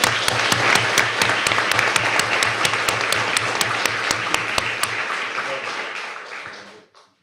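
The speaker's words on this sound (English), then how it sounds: "please give a round of applause for Miss Ava Blanchard" An audience at a board meeting applauds steadily, a dense wash of clapping with a few sharper nearby claps standing out, holding level for several seconds before fading out near the end.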